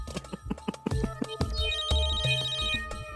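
A phone rings with a bright electronic ringtone melody, loud and close, repeating in a steady pattern of synthesized tones with no voices.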